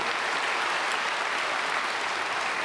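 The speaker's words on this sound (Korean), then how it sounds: "우리 강단에 있는 모든 어린 학생들에게 박수하겠습니다." A church congregation applauds the children standing on the stage during a special early-morning service. Dense, even clapping from a large crowd holds steady and loud with no talk over it.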